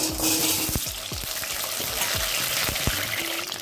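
Potatoes frying in mustard oil in a wok, a close, busy sizzle with scattered crackles and a few light metallic touches.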